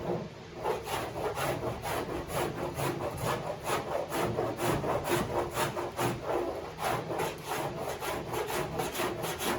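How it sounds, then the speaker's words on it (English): A cheese-grater rasp shaves still-soft fiberglass filler during car bodywork, making steady, rapid back-and-forth scraping strokes that are close and continuous, with no talking. "hit it with a cheese grater, well, it's still kind of soft"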